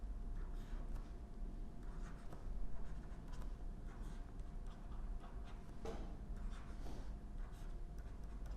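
Pen scratching and tapping on paper or a board while chemical structures are drawn, with soft irregular strokes and ticks at a steady low level, without speech.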